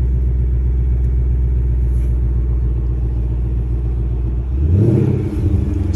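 A 2020 Ford Mustang's naturally aspirated 5.0 V8 in sport exhaust mode idles with a deep, loud rumble, then blips into one sharp rev that rises and falls back near the end.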